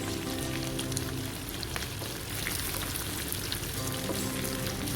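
Chicken fries with onion, dried red chillies and curry leaves in oil over a low flame, giving a steady, dense crackling sizzle throughout, close and even, with no voices.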